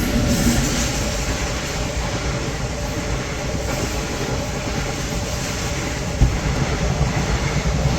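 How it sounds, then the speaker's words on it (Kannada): A train rolls past in a continuous loud rumble, wheels clattering steadily on the rails for several seconds with a single sharp knock near the end and no voices. "ಟ್ರೈನ್ ಬಂತು"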